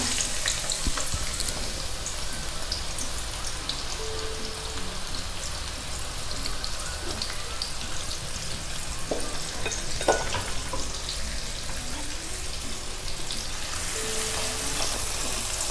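Onions frying in half a cup of mustard oil for a royal chicken dish, a steady close sizzle with occasional stirring scrapes and crackles, no voices.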